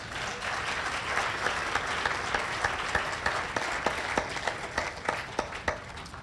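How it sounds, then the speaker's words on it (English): An audience at a Catalina High School literacy celebration gives a round of applause, steady dense clapping throughout that stays fairly even, with a few louder individual claps standing out near the end. "she earns another round of applause for this"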